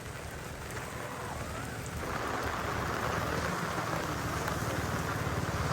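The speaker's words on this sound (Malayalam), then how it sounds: "നല്ല മഴ പെയ്തു" Heavy rain pours down along a village lane, a steady hiss that swells noticeably louder after a couple of seconds and carries on as a dense wash, with no voices.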